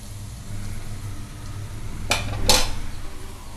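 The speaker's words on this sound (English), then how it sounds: "After 1 minute we have to mix the onions, otherwise the onions may stick to the bottom of the pan." Onions with red chilli powder being mixed in a pan for an onion curry: a low steady hum with two sharp utensil scrapes or clinks against the pan near the end, fairly close.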